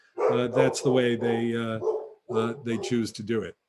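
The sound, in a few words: dog barking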